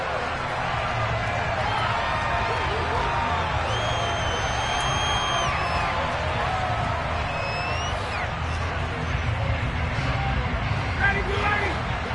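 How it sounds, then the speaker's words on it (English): A crowd at a football game shouts and cheers while watching a replay, a steady wash of voices and scattered whoops under continuous play-by-play commentary. "Plenty of shouts from this crowd as they watch the replay."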